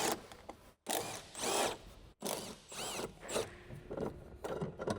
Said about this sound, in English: Using the 13mm deep socket with the electric impact wrench, remove the ground strap retaining nut from the top of the strut tower.